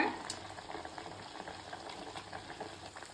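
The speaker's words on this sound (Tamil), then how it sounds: "சூடு பண்ண எண்ணெயில் இப்போ இதை போட்டுருவோம்" Sweet appam batter dropped into hot oil in a Tamil home kitchen fries with a soft, steady bubbling and sizzle, fairly quiet and continuous, with no talk over it.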